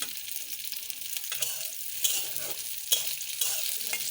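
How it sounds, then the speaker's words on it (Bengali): Bitter gourds fry in a hot pan until reddish, a steady crackling sizzle with occasional stirring scrapes and pops, close and alone with no talk. "আর এই করলাগুলোকে আমি লাল লাল করে ভাজছি ভর্তা বানানোর জন্য।"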